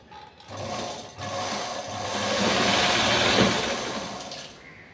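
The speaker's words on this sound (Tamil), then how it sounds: "கீழே பாட்டத்தை நம்ம 2 இன்ச் மடித்து தைக்க போகிறோம்." A sewing machine stitching a 2-inch folded hem on cloth, a short start-stop whir, then a rising sustained mechanical run with rapid needle chatter, close and moderately loud.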